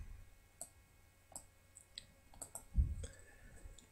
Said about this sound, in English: And just left click